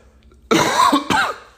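A pair of harsh, throaty coughs close to the microphone, the first drawn out and the second shorter, in a quiet room.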